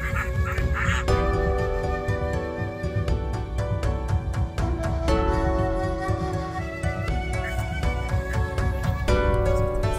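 Female Peking ducks quack loudly and constantly, many birds honking over one another close by in a noisy, overlapping chorus with no pause.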